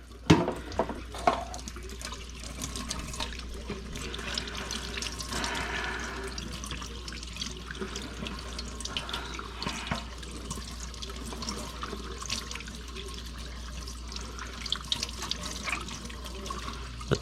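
Tap water runs steadily into a sink while blood is rinsed off freshly skinned squirrel meat, close and continuous with small splashes and no talk.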